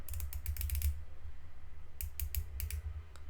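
A Seiko dive watch bezel is turned in quick bursts of small, sharp, close ratcheting clicks, with a short pause between the two runs of clicks.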